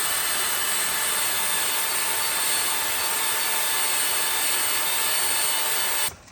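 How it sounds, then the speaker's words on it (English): Sandpaper is rubbed by hand over a shaved pin on a Supra brake job, making a loud, close, continuous scratchy hiss that stops abruptly at the end. "All I got here is some sandpaper"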